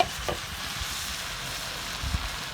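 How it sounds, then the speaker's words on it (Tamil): Mint, coriander and curry leaves sautéing in a pan for mutton kulambu give a steady, soft frying hiss with a few faint stirring knocks, close and alone, with no talk. "கருவேப்பிலை கொஞ்சம் போட்டு நல்லா வணக்கிட்டேங்க"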